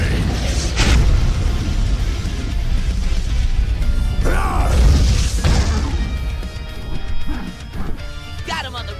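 Fire attack explosion effect from a Pokemon versus Digimon battle, loud crashing bursts and whooshing booms in quick succession, layered over shouting voices and dramatic background sound.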